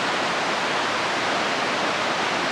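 Fast-flowing river at Sissu village, a steady, loud, close rushing roar of water with no breaks.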